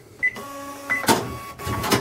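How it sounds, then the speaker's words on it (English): A Casio SR-C4500 cash register gives a few short electronic beeps, then a couple of brief, buzzy receipt-printer bursts, close and clear with no talking. "we have the option of printing a post receipt"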